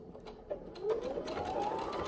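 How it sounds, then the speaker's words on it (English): A Brother BQ1350 sewing machine runs an overlock stitch on knit fabric, a quiet, rapid rhythmic whirring with faint ticking pulses that builds slightly over a couple of seconds. "I'm gonna go ahead and start sewing."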